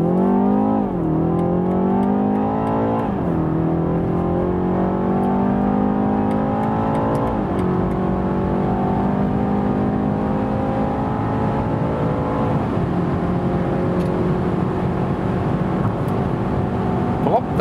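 A 2021 BMW 330i G20 with rear-wheel drive pulls hard from 30 km/h, its engine note rising steadily through several gears with a dip at each upshift, heard as a continuous, moderately loud drone from the cabin.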